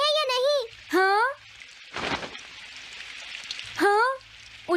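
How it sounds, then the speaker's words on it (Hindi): Steady rain hisses softly in the background of a Doraemon cartoon while high-pitched Hindi-dubbed voices talk over it in short bursts. "काश ये बारिश जल्दी से रुक जाए।"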